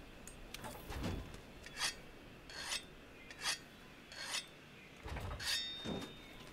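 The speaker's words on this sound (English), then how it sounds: "Gotta sharpen the weapon, yeah." A weapon is sharpened with a whetstone in Monster Hunter World: a steady series of about seven rasping strokes, evenly spaced and close up, with no talk over them.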